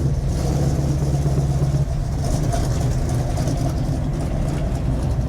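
Shelby Cobra engine pulling away, a loud, continuous low rumble that steadies into a throaty drone as the car gets going.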